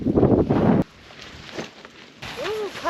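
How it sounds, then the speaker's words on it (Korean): Wind gusts across a mountainside at Wangbangsan in Pocheon during a spring-rain backpacking trip, with a brief loud buffeting rush at the start that then drops to a quieter outdoor hush. "바람."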